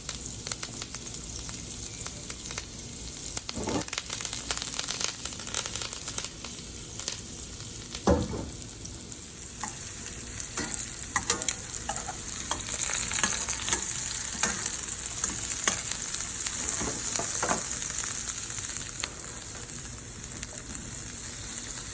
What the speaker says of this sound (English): You're gonna keep it there until you get a nice sear.